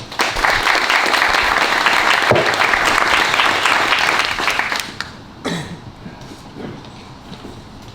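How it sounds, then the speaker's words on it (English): An audience at an interview event for a British touring car driver breaks into loud sustained applause that thins out after about five seconds into a few scattered claps and quiet room noise. "So please give Colin a round of applause."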